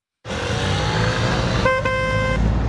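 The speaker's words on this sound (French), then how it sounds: "Un coup de klaxon pour montrer son agacement" A car horn blasts in one long, loud continuous honk that starts abruptly and holds to the end over faint road noise.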